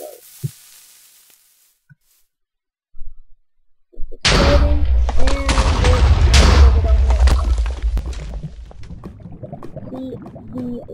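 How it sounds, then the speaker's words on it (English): C4 charge detonating in a video game explosives mod: after a quiet start with a couple of small clicks, a loud boom erupts and rolls into a long, dense rumble of debris and crackle that slowly fades. "let's watch the C4 explode"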